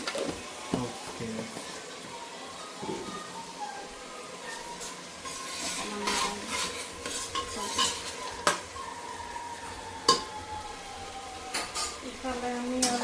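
Onions and chicken frying in a pan, a quiet sizzle broken by sharp clinks and scrapes of a metal spoon against the pan, with some talking in the background.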